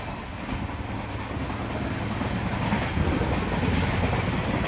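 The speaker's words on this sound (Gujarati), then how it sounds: "એક્સપ્રેસ ટ્રેન છે આપણે દ્વારકાથી અમદાવાદની" An express train on the Dwarka to Ahmedabad route rumbles steadily along the tracks, a loud continuous roar with low rattling, no voices.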